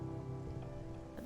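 Steady rain with a soft wind blowing through the weather of the sci-fi game I Was a Teenage Exocolonist, a continuous patter under a low musical drone, swelling slightly at the very end.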